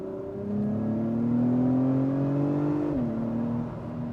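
An Acura TLX engine revs to 5,000 RPM and holds a high, strained whine, pitch climbing slowly before dropping sharply as the revs fall, loud and close.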